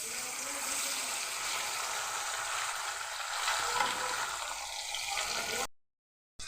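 Paneer cubes frying in hot oil spiced with cumin powder, a steady close hiss and sizzle that stays even throughout, then cuts off abruptly near the end.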